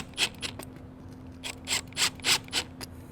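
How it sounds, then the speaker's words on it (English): Screws being driven into a hinge while installing a Subaru precut kit, heard as several short mechanical ratcheting and scraping bursts in an uneven rhythm, close and moderately loud over a steady low hum. "Get a couple screws in it."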